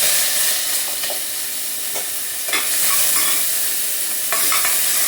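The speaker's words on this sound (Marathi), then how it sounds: "पण आता पहिला अर्धा इथे टाकते लसूण आणि थोडंसं जिरं, कारण तेल एकदम गरम झालं." Garlic and a little cumin hit very hot oil in a home kitchen pan, producing a loud, bright, continuous sizzle with occasional crackles and pops, close up and without any talking.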